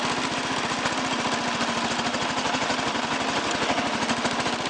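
A 1986 Toro 11-32 lawn tractor engine runs steadily at a constant pulsing throb, close and loud, with no voices.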